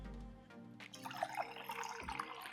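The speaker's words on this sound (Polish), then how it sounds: "Trzeba wody sobie nalać." Water pours into a glass or cup for a couple of seconds, a quiet trickling fill that rises after a short pause, heard close and alone.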